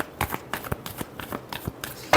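Tarot cards being shuffled by hand in a series of quick, papery riffles and slaps, close and fairly soft, with a louder snap at the end.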